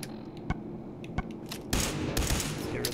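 Grenade blasts in the Fallout 4 video game, one sharp boom after another at first, then a long loud wash of explosions and rumbling debris filling the rest.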